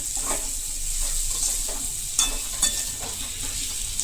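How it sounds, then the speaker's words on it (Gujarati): A spoon scrapes and knocks against a frying pan, mashing large potato pieces for a dry potato dish over a steady sizzle, with a few sharper clinks along the way. "આ રીતે બટેકાના જે મોટા ટુકડા હોય તેને ચમચા વડે ભાંગી લેવાના."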